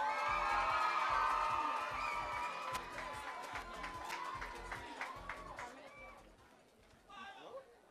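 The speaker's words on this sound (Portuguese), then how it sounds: "Un fuerte aplauso." Audience at a school pageant in Aruba cheers and claps for a young contestant, a busy crowd roar with whoops and voices that swells at first and then fades toward the end.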